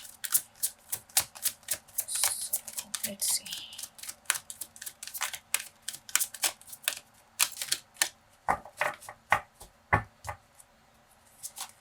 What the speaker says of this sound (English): I also kind of wanna talk over while I shuffle